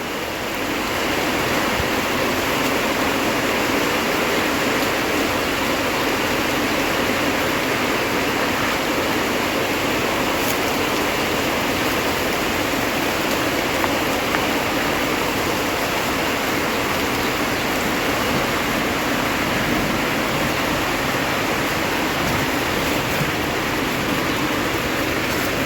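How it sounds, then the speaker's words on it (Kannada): The first rain of the year at Ugadi in 2026 pours down in a dense, steady hiss under trees, unbroken and fairly loud for the whole stretch with no voices. "ಕೇಳಿಸ್ತಾ ಇದೆ ಅಲ್ವಾ ನಿಮಗೆಲ್ಲ? ಮಳೆ ಸೌಂಡು, ಗುಡುಗಿನ ಸೌಂಡು."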